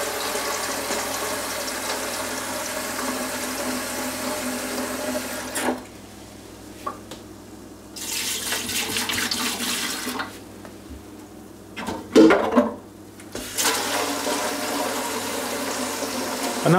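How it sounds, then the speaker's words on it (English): About a cup of water pours into a Homedics ultrasonic humidifier reservoir in a sink, a broad splashing flow that stops and starts in a few bursts, with brief handling clatter between pours. "And then add about a cup of water."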